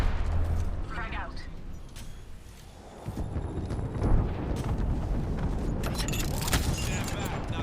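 A grenade explodes in a first-person shooter video game: a heavy blast rises sharply mid-clip and peaks in a single boom, followed by a lingering rumble and scattered combat noise, with voices talking before and around it.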